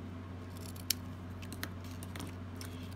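Scissors snipping through a piece of craft paper for a greeting card, a few soft, crisp cuts over a steady low hum, close and fairly quiet.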